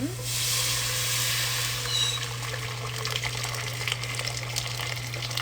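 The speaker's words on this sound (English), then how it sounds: "So I'm just going to pour the water in." Hot water gushes from a kettle into a cooking pot for beef stew, a steady pouring rush that fades into softer splashing and trickles over a constant low electrical hum.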